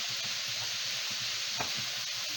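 Kale and sausage sauté in a pan with a soft, continuous sizzle, close but faint, broken by a few quiet stirring clicks, and no one speaks.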